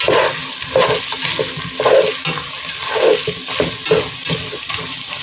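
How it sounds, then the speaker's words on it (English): Stew meat sizzling loudly in leftover grease in a pan, a steady frying hiss with rhythmic stirring scrapes recurring about once a second. "I'm gonna add my stew meat in here."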